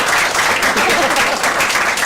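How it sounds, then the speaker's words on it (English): A crowd applauds the Conservative London Assembly team panel at a political gathering, with loud, dense, steady clapping filling the whole stretch. "Big round of applause for the Conservative London Assembly team"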